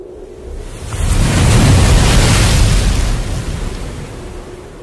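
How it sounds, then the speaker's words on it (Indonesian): A cartoon storm at sea with big waves, a broad roaring wash of surf and wind that swells in loudly after the first second and slowly eases off near the end, with no voices. "tiba-tiba datanglah badai dan ombak yang besar."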